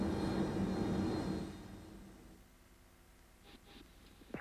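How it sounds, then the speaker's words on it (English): Jet engines of an Airbus A320 at flex thrust during the takeoff roll: a broad, steady roar heard from inside, strongest at first and then easing to a softer, even drone, with a couple of faint clicks near the end. "So we're starting our takeoff roll in the A320."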